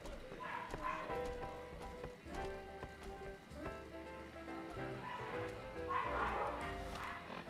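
Several dogs bark in loud, irregular bursts close by, over a busy background of music and clattering that sounds like hooves.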